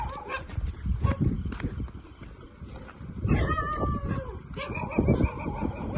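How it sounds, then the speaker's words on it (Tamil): Several dogs howl and bark at a distance, overlapping cries rising and falling over a noisy outdoor background. "சுற்றி நாய் கொலையிற சத்தம்"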